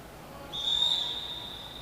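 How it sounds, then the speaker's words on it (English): An official's whistle at a track cycling race gives one sustained, shrill blast of about a second, clear and fairly close over faint arena ambience. "Whistle sounds."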